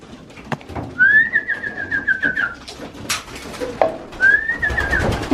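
Pigeons feeding after a three-hour flight give two drawn-out tonal calls, one early and one near the end, over a busy, rustling background.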